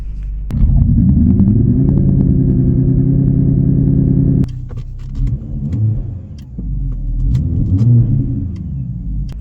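An artificial synthesized engine drone fills the cabin of a Mercedes-AMG GLC 63 S, a loud harmonic hum that cuts off abruptly, then rises and falls again with revving.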